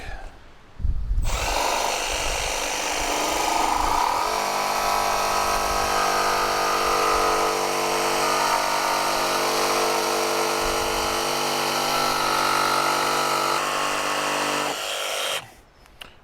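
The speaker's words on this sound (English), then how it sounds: "We're gonna start off by trying to cut a straight line." A Milwaukee M12 barrel grip jigsaw runs steadily outdoors in wind, cutting a straight line through wood with a loud, continuous buzzing whine that starts after a second and stops near the end.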